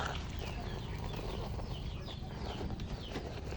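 Chickens and ducks in a home yard, with continuous clucking and fowl calls close by over steady outdoor background noise, no talking.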